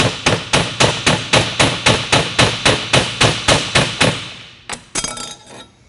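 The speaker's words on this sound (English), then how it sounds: "take the flat spot of the hammer and drive the ring off" A ball peen hammer drives a bearing ring off a spindle with about fifteen sharp metallic blows in a fast, even rhythm. After a short pause, two more scattered knocks follow.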